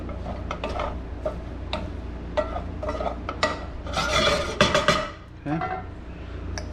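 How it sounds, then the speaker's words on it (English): Sweet potato hash stirred in a pan with a utensil: repeated rasping scrapes and clinks against the metal, building to a busier burst of scraping over a faint sizzle. "Give it a mix."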